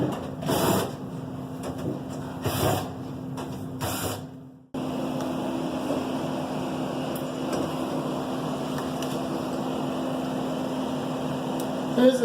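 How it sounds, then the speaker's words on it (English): A furnace blower fan runs steadily during an HVAC tune-up, a constant droning whir with a tonal hum. An earlier quieter, choppier stretch gives way to a louder, even fan noise. "It is easiest to do that with the blower running"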